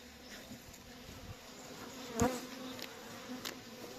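Honey bees buzzing softly and continuously close by while being fed sugar syrup, with a few brief louder passes of individual bees.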